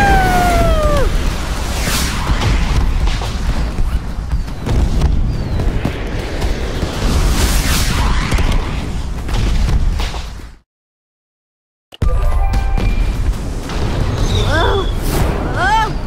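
Fireworks bursting in the video game Minecraft: Story Mode, a run of booming pops and crackles with whistling streaks, cut by a brief silent gap before more bursts and rising whistles resume.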